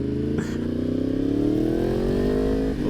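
2016 Yamaha R1 with an aftermarket exhaust revving hard: a loud, close engine note that climbs steadily in pitch as it accelerates after a quick shift, sustained for several seconds with a brief dip near the end.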